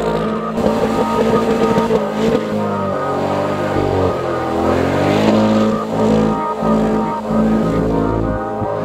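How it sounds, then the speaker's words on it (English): A Chevrolet C8 Corvette drifts on snow, its engine droning and revving steadily at close range for the whole stretch, with pitch rising and falling as the throttle works and no talk over it. "Dude, first time driving a C8 drifting Corvette. Drifting in the snow."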